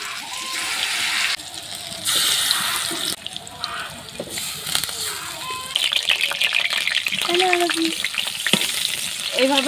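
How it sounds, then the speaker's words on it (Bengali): Helencha (buffalo spinach) fritters fry in a pan with a continuous loud sizzle, broken by shifting bursts as pieces are stirred or turned and a brief watery, tap-like stretch. "এবার বাকিগুলো আমি ভেজে নিচ্ছি।"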